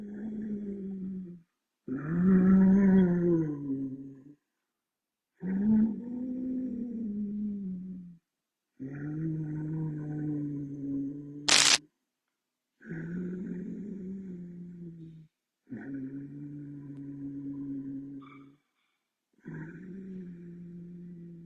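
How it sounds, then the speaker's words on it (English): Ujjayi ocean breathing in a pranayama exercise for cardiac patients: long, raspy, throaty breaths, about eight in a steady rhythm separated by short silences, close and fairly loud with no talk. "This will also sound like what is called a Darth Vader breathing,"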